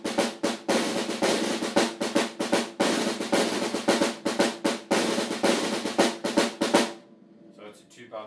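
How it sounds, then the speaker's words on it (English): Snare drum playing a shuffle pattern: rapid, sharp, evenly spaced strikes in a busy rhythm that stop shortly before the end, followed by faint trailing sounds. "Snare drum sounds like this."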